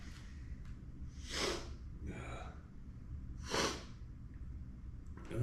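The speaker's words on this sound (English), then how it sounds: "Oh, sniffles." Two short, breathy sniffs about two seconds apart, close by, over a low background hum.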